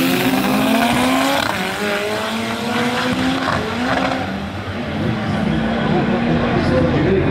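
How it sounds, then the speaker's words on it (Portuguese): A nitro-equipped all-wheel-drive VW Gol launches down a drag strip, its engine screaming loudly and steadily for several seconds as it pulls away, with a commentator talking over the roar. "Aí a puxada do golzão AWD nitro."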